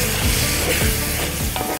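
Peas and colored peppers fry in a pan for seafood paella, a steady close sizzle with occasional stirring scrapes, continuous and fairly loud without speech.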